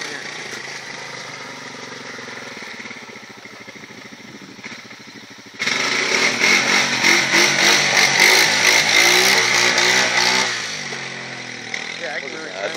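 A Honda Rancher 420 ATV engine idles steadily, then jumps into a loud sustained rev for several seconds during slow wheelies before easing back toward idle, heard up close with people talking over it.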